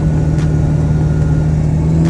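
A Ford 7.3 Powerstroke diesel with its stock turbo holds a steady 2,500 RPM under boost, a loud, even engine drone with a strong low hum and no talk.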